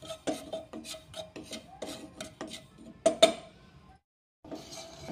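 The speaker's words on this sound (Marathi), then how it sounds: "तर अगोदर आपण ही खसखस थोडीशी भाजून घेऊयात" Dry poppy seeds (khaskhas) roasting in a pan over low gas for dry-fruit modak, stirred with steady, close rasping and scraping strokes against the pan and a couple of sharper clinks, then a short pause before the scraping resumes; no talking.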